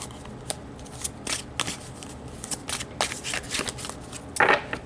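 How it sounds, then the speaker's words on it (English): A large tarot deck is shuffled by hand, giving soft riffling and flapping card bursts at uneven intervals, fairly close and quiet, with no talking. "I'm having a hard time shuffling these bigger"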